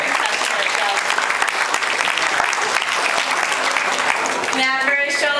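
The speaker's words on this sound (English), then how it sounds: "give her a nice big round of applause as she heads off home to such a great job" A crowd in the audience claps through a dense, sustained round of applause at a dolphin and seal show, and a voice over a loudspeaker cuts in as the clapping tails off.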